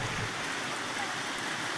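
Steady rain pours down in a continuous, even hiss with no breaks, quite close and filling the whole moment.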